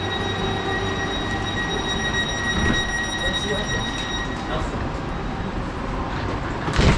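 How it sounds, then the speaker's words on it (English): A West Midlands Railway train rumbles steadily at a platform on the Birmingham Cross City line, pulling away with a continuous low drone and faint wheel noise, while people talk nearby. "we'll watch this train go actually,"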